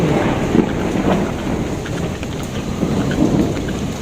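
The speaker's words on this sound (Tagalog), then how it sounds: "Maulan dito sa Taiwan, oh. May bagyo." Steady heavy rain pours during a typhoon in Taiwan, a dense continuous hiss with low rumbling thunder rolling underneath throughout.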